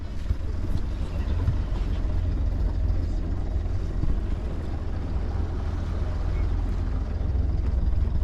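A boat motor at sea between Guadeloupe and Martinique runs at a steady low rumble under heavy wind noise, loud and continuous.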